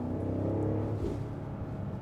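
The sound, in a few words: BMW X5 M60i artificial exhaust burbles in sport mode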